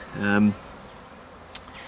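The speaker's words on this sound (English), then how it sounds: "I'm getting buzzed by a bee here." A bee buzzes close by near a backyard beehive, one loud half-second drone that passes and fades, followed by quiet outdoor ambience.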